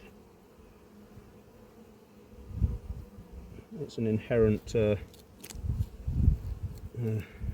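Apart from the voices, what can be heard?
honeybees buzzing around a beekeeper at an apiary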